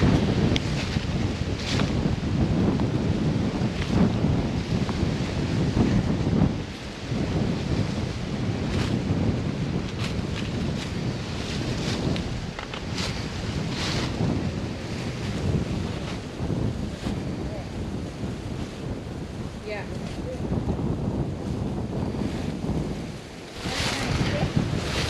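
Wind gusts across the microphone at Watauga Dam, producing a continuous loud rumbling buffet that swells and dips unevenly for the whole stretch with no clear talking.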